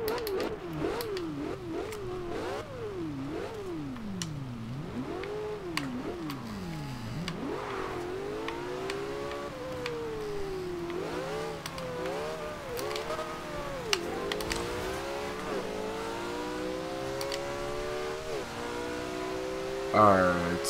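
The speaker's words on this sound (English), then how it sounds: "I do like the sound of this car." A 2014 Porsche 918 Spyder in Forza Horizon 2, driven in the rain, revs loudly and continuously, its engine pitch sweeping up and down through repeated gear changes and climbing into long, steady high-rev pulls.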